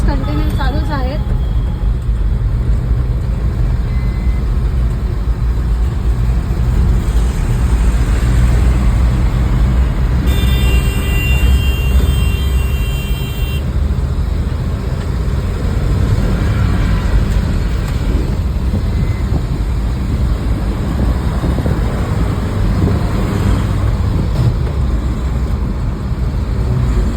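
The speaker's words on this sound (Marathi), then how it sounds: "अजून ट्रॅफिक चालू आहे, मुव्हिंग ट्रॅफिक आहे" Continuous moving road traffic of cars and trailer trucks on the Ghodbunder road from Thane toward Chinchoti makes a loud, steady roar with no breaks, as vehicles pass close by.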